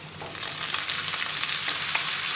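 Steady crackling sizzle of food frying in hot oil, close and continuous, with no talking.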